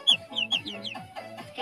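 Three-week-old broiler chickens cluck and chirp in a quick, busy series of close calls, with no one talking over them.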